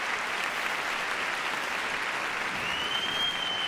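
Big, sustained applause from the arena crowd at the 2007 World Figure Skating Championships after an ice dance rhumba compulsory, a broad wash of many hands at steady volume with a faint tone near the end.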